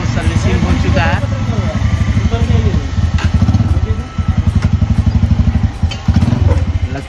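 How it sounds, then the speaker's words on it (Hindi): A freshly serviced motorcycle engine idles with a steady, chugging pulse and an abnormal noise, close by, while a person talks over it. "गाड़ी आवाज कर रही है"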